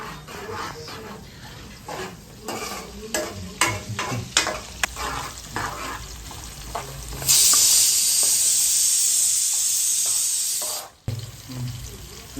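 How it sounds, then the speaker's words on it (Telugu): Ingredients for a Sunday chicken or fish curry fry in a pan until golden, with stirring clatters first and then a loud, steady sizzle that swells and cuts off abruptly. "వీటిని ఇప్పుడు దోరగా అయితే వేయించుకోవాలి"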